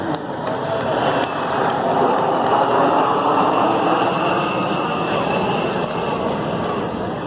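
A KC-135 tanker jet passes at an air show with its refueling boom down, a steady broad roar that swells and holds loud throughout, heard alone without voices.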